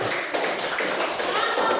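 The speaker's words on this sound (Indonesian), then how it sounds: "tepuk tangan untuk kelompok" Classroom clapping for a student group, a dense, steady patter of many hands that runs evenly and fairly close throughout the short stretch.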